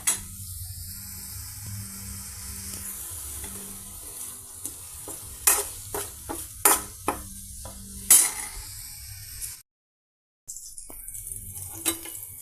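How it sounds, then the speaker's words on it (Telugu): Brinjal pieces, curry leaves, chana dal, salt and turmeric frying in oil, a soft steady sizzle with scattered sharp scrapes and clinks of a stirring spoon against the pan, broken by a brief gap of silence. "ఉప్పు, పసుపు, బ్రింజిల్స్ అండ్ కర్రీ లీవ్స్, పచ్చిపప్పు అండి ఈ విధంగా ఆయిల్తో ఫ్రై అవుతున్నాయండి"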